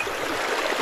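Fast-flowing creek water rushes in a steady, close, full hiss of turbulent current with no voices, heard alone.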